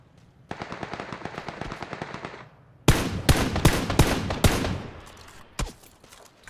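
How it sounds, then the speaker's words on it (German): Rapid bursts of video game gunfire in a hill-control shooter match, a lighter stuttering volley first, then louder, close automatic fire with sharp repeated shots that tail off into a few isolated cracks. "Schießt immer noch einer auf mich"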